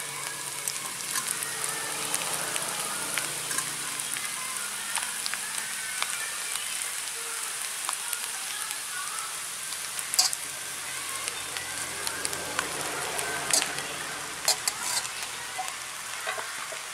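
Egg rice frying and being stirred in a pan, seasoned with pepper: a steady, close sizzle with scraping stir strokes and a few sharp clicks of the utensil against the pan, with no talking.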